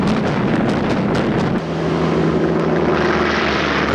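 Droning propeller aircraft engines of US bombers in a wartime attack on Japanese carriers form a loud, steady, rumbling roar with wind noise, continuous throughout.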